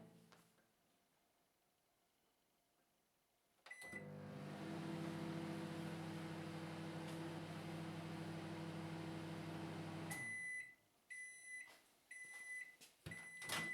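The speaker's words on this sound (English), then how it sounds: "Pour some of the mixture in a heat-proof jug and microwave on full for 3 minutes." A microwave oven runs on full power for a jug of citric acid descaling mixture, a steady loud hum with fan noise lasting several seconds, then stopping and giving a series of sharp, evenly spaced completion beeps.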